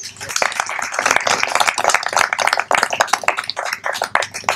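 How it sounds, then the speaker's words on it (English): A live audience claps for Terry Carter at an evening talk about Brewer's Cave, the dense clapping filling the whole stretch at steady loudness, with some voices mixed in. "So I'd like to give him a round of applause."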